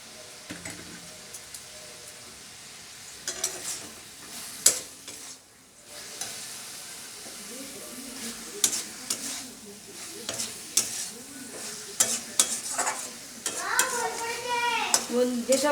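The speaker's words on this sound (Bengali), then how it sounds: "এবার জল দিয়ে দিয়ে অল্প অল্প করে একটু কষিয়ে নেব।" Flat bean curry (shim chorchori) is stirred and fried in a pan with a little water, giving a steady sizzle broken by repeated scraping and clinking stirs, with louder bubbling toward the end.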